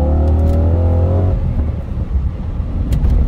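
A 2000 BMW E39 M5 engine revs up loudly and close with a rising harmonic whine, then drops back to a rough, rumbling idle.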